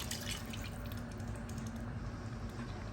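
Tap water runs into a cooking pot holding tomato paste, a faint steady trickle with light dripping close by.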